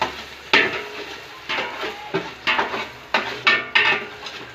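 Ginger sautéing in a thin cooking pot, with a low sizzle under repeated scraping and clattering strokes of a utensil against the metal, close and fairly loud in an uneven rhythm.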